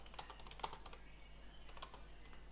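Keys clatter on a computer keyboard in a steady run of light, close clicks with a few sharper strikes, no voices over it.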